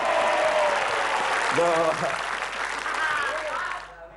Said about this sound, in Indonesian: Tepuk tangan untuk Mas Dani.